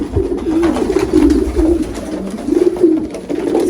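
Spanish breed pigeons cooing nearby in a repeating, throaty rhythm, several soft rising-and-falling coos in a row with no talking.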